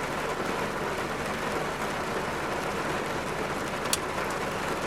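Heavy rain heard from inside a car drums steadily on the roof and glass as a dense, even hiss, with one brief sharper tick near the end.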